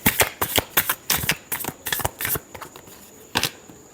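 Tarot cards shuffled by hand, a series of quick riffling bursts in an uneven rhythm, close and crisp, tapering off toward the end.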